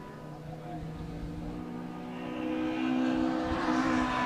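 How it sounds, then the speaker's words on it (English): A street all-wheel-drive Evo race car on a track at a time attack session, its engine droning at a distance and rising in pitch and loudness as it accelerates past. "Matt Dennison there in the street all-wheel drive Evo"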